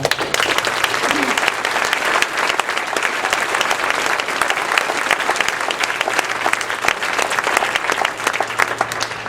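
An audience applauds a call to honor people who stood up for their country, with dense, continuous clapping that stays loud and even throughout.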